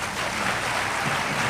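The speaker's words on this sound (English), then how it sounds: "I'm going to now ask you for a round of applause for the panel." An audience applauds a panel with dense, steady clapping that holds at an even level throughout, with no voices above it.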